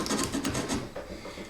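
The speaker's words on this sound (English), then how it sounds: "So I will continue sawing in between the drill holes" A keyhole saw rasps through wood between drilled holes in quick back-and-forth strokes, close and fairly loud, slowing toward the end.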